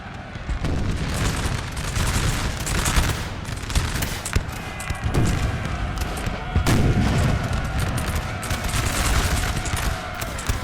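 Massed musket fire in a Napoleon Total War multiplayer battle: dense, continuous crackling volleys of many guns, with booming cannon and battlefield din mixed in.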